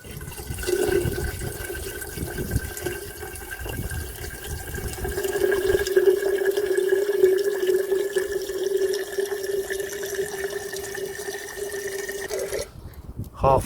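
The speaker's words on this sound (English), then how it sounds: "I'm going to put some water in there and get this heated up." Water pours into a steel Nalgene bottle at a camping test for sleeping bags, a steady, gurgling fill that lasts about twelve seconds before stopping abruptly.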